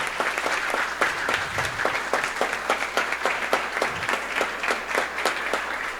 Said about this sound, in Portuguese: eu quero que vocês aplaudam ao João por esta atuação